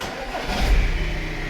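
Audi A4 engine cranks and fires after repair of rodent-chewed wiring, a brief starter whir rising into a low rumble that settles to a steady idle close by.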